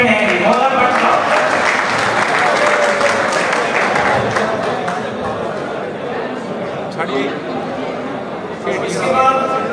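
A crowd at a 14 August ceremony at the Pakistan Club in Bahrain applauds the runner-up team captain with loud, sustained clapping that slowly tapers off while voices chatter beneath it.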